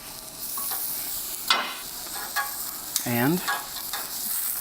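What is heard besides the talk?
onions sizzling in hot pan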